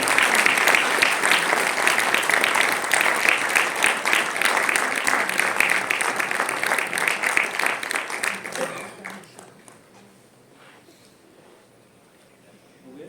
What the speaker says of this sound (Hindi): आप सभी से अनुरोध है तालियों के साथ आप इसका स्वागत करें